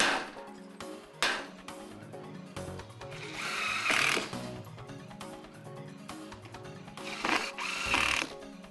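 Screws are driven through a metal roof eave starter, giving bursts of power-driver whirring with clanks and knocks of metal as each fastener goes in, moderately loud and irregular.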